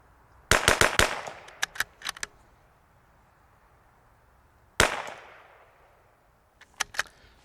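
Rifle shots from an RPR rifle firing match ammunition outdoors: a quick string of sharp, loud cracks, then a lone shot after a pause, and a couple of fainter pops at the end.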